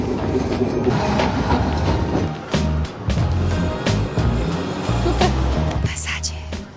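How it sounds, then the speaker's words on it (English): A tram rumbles and clatters as it gets moving, with rhythmic clicks and low mechanical hum, heard from on board with background noise. "The tram is about to move."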